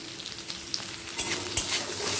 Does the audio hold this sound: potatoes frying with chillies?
yes